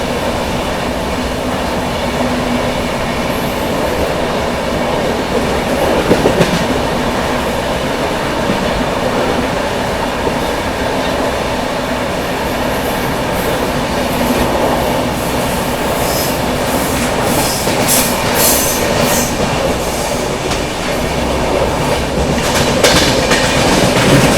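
A 12050 Gatiman Express high-speed train running on the Delhi to Jhansi line gives a loud, steady rail rumble with rhythmic clickety-clack and brief wheel squeals, close and continuous throughout, with no talking.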